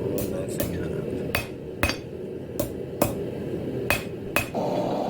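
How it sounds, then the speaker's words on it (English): A hammer strikes a hot metal spiral being forged into a candle holder, eight sharp ringing blows at uneven intervals over a quiet background hum. "Hammering straight down on the spiral helps clean it up and make it nice and tight."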